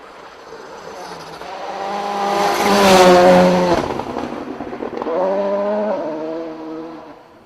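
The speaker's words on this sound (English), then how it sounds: "is that a Don Buckley car?" A rally car in a Scottish Rally Championship event, built by Don Buckley, roars past at speed, its engine note swelling to a loud peak mid-pass and then easing as it pulls away, with no talk over it.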